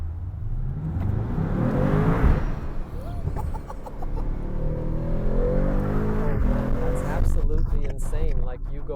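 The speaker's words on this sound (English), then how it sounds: "An AMG has to sound like this." A 900 HP AMG carbon-bodied supercar, one of ten built, revs and accelerates with a loud, rising engine roar while people talk over it throughout.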